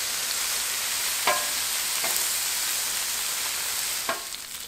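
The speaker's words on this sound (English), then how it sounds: "So we're just gonna go ahead and cook this bacon." Bacon frying on a 36 inch Blackstone griddle outdoors, a steady close hiss of sizzling fat with a few soft scrapes and taps, no talking.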